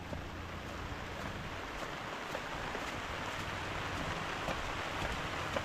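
Steady rain falls outdoors near a roadside in the countryside, making a constant dense hiss that holds at an even level with no voices throughout.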